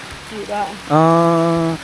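Rain falls in a constant even hiss, and a person's voice rises loudly over it partway through.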